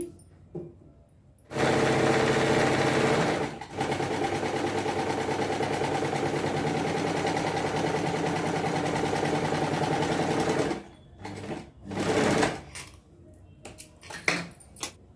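A sewing machine runs steadily for several seconds as it stitches a dress neckline along canvas, stops briefly, then runs again before a few short bursts and pauses.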